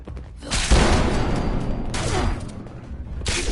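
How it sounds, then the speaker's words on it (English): Explosions and gunfire erupt in the game Fallout 76, a dense continuous barrage of booms and rapid shots, loud and close, filling the whole stretch without talk. "I'm happy for that explosion."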